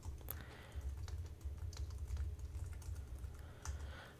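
Quiet, rapid clicking of keys on a computer keyboard, irregular taps close by with no voices.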